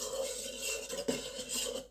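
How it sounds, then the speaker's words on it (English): A spoon scrapes and swirls steadily through cold process soap mixture in a bowl, a continuous close rasping stir with one brief sharper knock partway through. "now I'm just going to gently run it around with the spoon so it all mixes through"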